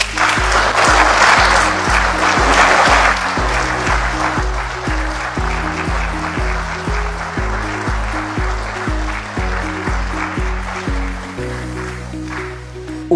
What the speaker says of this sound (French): Je veux demander à la plénière d'applaudir très fort.